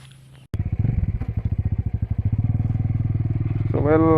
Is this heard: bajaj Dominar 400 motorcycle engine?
yes